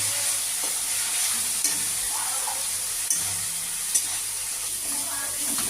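Spice masala frying in oil for kachki fish curry, with a steady soft sizzle and a few faint clicks of a stirring utensil against the pan.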